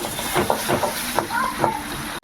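Sliced onions with a pinch of salt fry in a little oil in a pan for a spicy tengra fish curry, giving a soft, steady sizzle with a few stirring scrapes and faint talk.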